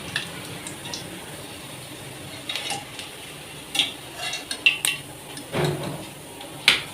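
Fried bread gulab jamuns are lifted out of a pan with the flame off, bringing light clinks and taps of a utensil against metal, scattered and close, over a faint background hiss.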